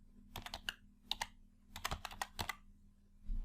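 Quiet computer keyboard typing comes in short bursts of quick clicky keystrokes separated by pauses, heard close and alone.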